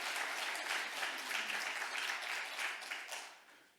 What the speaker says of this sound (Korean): 우리 시온 찬양대를 박수 한번 해주세요.